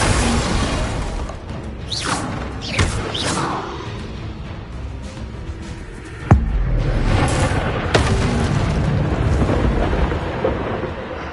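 Bombarda explosion spell cast in a Harry Potter video game: loud booming blasts and whooshing bursts with sharp cracks, one strong impact partway through followed by a sustained rumbling roar.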